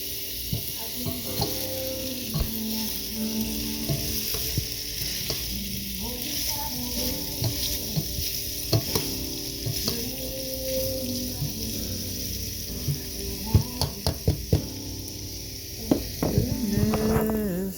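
Sausage and tasso brown in a pan, a steady sizzle running under scattered clicks and scrapes of a utensil, with a stronger burst of sizzling toward the end.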